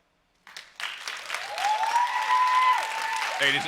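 Audience members clap at a school board meeting, starting abruptly after a moment of silence and building into steady applause, with a voice rising through it near the end.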